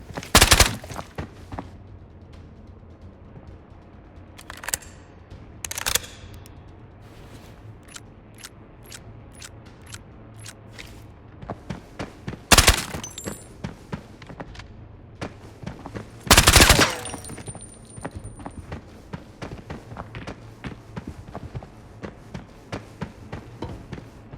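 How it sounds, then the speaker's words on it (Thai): Gunfire in the video game Arena Breakout: scattered loud shots and short bursts, some single cracks and a few sustained volleys, with quieter pops in between and no talking. "เดี๋ยวรอไอ้เขายิงกระสุนเล่นก่อนครับ"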